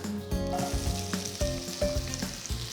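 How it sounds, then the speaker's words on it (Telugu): Chopped onions sizzle in hot oil with mustard seeds for a brinjal curry, a close, continuous frying hiss with light stirring clinks and scrapes. "ఆవాలు ఆడుతున్నాయి ఇప్పుడు నేను రెండు మీడియం సైజ్ ఉల్లిపాయలు తరిగి వేస్తున్నా"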